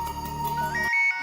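A phone ringtone plays as a bright repeating electronic melody with a steady tone, loud and close, then cuts off abruptly near the end, leaving a brief higher tone.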